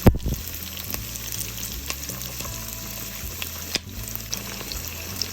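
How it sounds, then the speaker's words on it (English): Chopped onions frying in a hot pan for a chilli crab and prawn pasta give off a steady, close sizzle that runs the whole time, with a few faint clinks and stirs and no talking. "I just love onions in my pasta, so I'm just adding all of that there"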